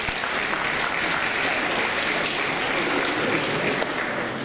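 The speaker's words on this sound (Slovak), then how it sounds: "potlesk určite nie na poslednom mieste patrí priateľom Strednej zdravotníckej školy" Dense, steady applause fills a hall at a secondary medical school ball, loud and continuous for the whole stretch with no talking over it.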